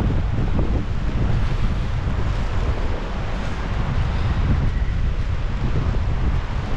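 Strong storm wind roars and buffets the microphone in a constant, heavy rush, with a steady hiss of falling rain beneath it, during flooding in Altena, Germany.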